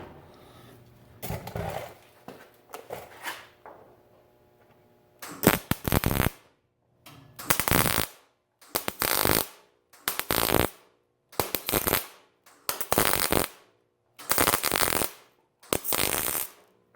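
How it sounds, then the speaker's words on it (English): MIG-style tack welds laid over an existing weld to repair a hole in a sagging garage door: about eight separate crackling, sizzling bursts of roughly a second each, evenly spaced with quiet gaps between, close and fairly loud. "I'm just going to throw some small tacks on the existing weld until I build up the material"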